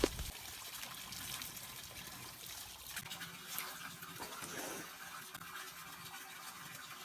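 Spring water splashes and trickles while someone washes face and hands at a mountain spring in Kashmir, a faint hissing flow with small splashes, soft and close.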